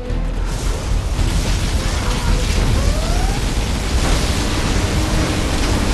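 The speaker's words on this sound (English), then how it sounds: "Particle cannon activated." A particle cannon fires in the strategy video game Command and Conquer Generals, a loud continuous roaring, hissing blast that sweeps on without pause for several seconds.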